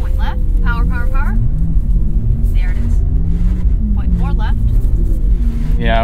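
A Porsche sports car on a track gives a steady low engine drone under throttle, heard beneath near-constant conversation between driver and instructor inside the cabin.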